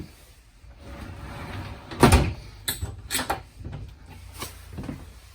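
A shower door in a 2017 Rockwood 2819VS travel trailer is unlatched from its transport lock and opened, giving a sharp clack followed by a few lighter knocks and rattles at close range.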